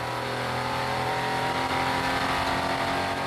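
On board a EuroNASCAR race car with a 5.7 litre, 400 horsepower engine, the motor roars steadily at high revs throughout, loud and continuous with a sustained droning tone and no talk.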